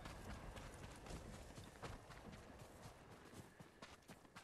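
Horse hooves galloping in the Ghost of Tsushima video game, a steady, continuous stream of quick, faint clip-clopping hoofbeats over a low rumbling bed of game ambience.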